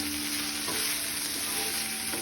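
Chicken lungs fry over a high flame while being stirred in a pan, a dense, loud, continuous sizzle with faint scraping underneath and no voices.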